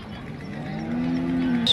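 A cow gives a single drawn-out moo at a cattle market, rising and holding steady for about a second, close and clear over low background murmur.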